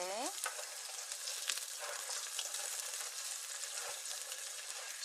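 Onion for pork adobo fries in a hot pan, giving a loud, continuous, close sizzle that crackles evenly from start to finish with no talk over it.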